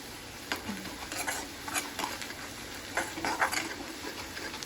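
Tadka for dal in refined oil and butter, with tomato, sizzling in a pan while a spoon scrapes and clinks against the metal in irregular strokes, a soft steady frying hiss underneath, no voices.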